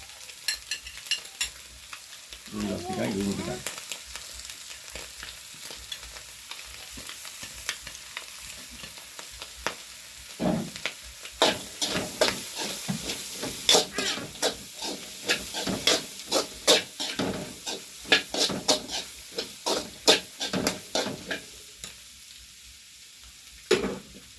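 Chopped onions fry in a pan while being stirred for egg fried noodles, with a soft steady sizzle under repeated scraping and stirring clatter that grows busier in the second half.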